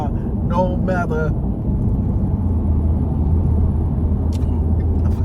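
Road traffic from people leaving a football game: a steady low rumble of nearby cars and engines, with someone talking briefly over it at the start.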